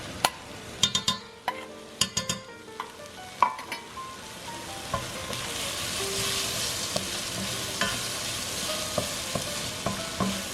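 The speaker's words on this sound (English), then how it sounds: "So you want to mix to coat the onions in the paste and in oregano" A spoon stirs onions coated in paste and oregano in a hot pan, with sharp scraping clicks early on, then a steady sizzle as the mixture fries, no talking.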